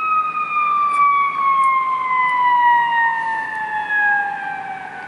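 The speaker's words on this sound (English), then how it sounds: "perhaps it's just coincidence that an ambulance happens to just be coming by" A loud ambulance siren holds a long, slowly falling wail as it goes past on Michigan Avenue in Chicago, with nobody speaking.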